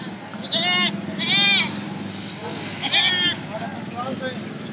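Goats on a goat farm bleat in several loud, wavering cries close by, with someone talking steadily underneath.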